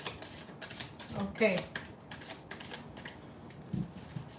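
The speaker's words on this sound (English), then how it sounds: "Notice my new shuffle style, huh?" Tarot cards shuffled quickly by hand in a rapid run of crisp riffling flutters and slaps, close and fairly loud, with a voice briefly speaking partway through.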